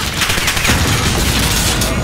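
Dense, continuous gunfire in a Modern Warfare battle, a loud, steady wash of rapid shots throughout with a faint voice mixed underneath.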